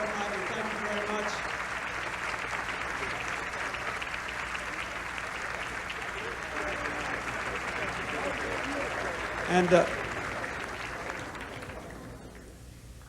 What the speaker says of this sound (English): give another round of applause to the Chamber Music Society of the Lincoln Center